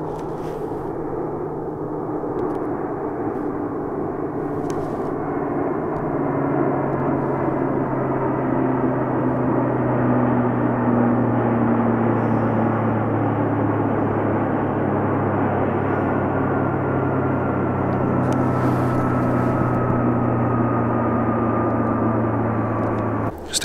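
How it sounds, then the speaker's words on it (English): Aircraft drone overhead, two planes flying close together above a remote foggy, drizzly campsite; a steady, rising engine roar fills the whole stretch, loud and continuous, with no talking. "Just a couple of planes in the middle of nowhere flying real close to each other"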